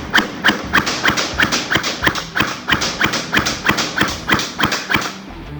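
An SRC SR-4 M4 metal gel blaster fires on semi-auto, about a dozen sharp, evenly spaced shots at close range, each a crisp thud-snap with a mechanical click.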